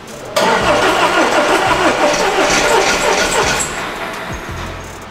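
An Audi that broke down on the road, its engine cranking loudly on the starter in a sustained churning run that fades toward the end, recorded up close.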